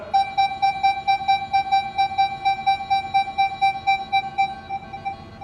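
A Minelab Equinox 700 metal detector over a coin gives a steady electronic tone pulsing rapidly and evenly, a bright beeping warble with rich overtones, holding at one pitch for several seconds with no talking.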